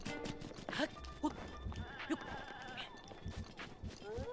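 In the video game The Legend of Zelda: Breath of the Wild, a goat chased by wolves gives several short bleats among game sounds, with someone talking over them.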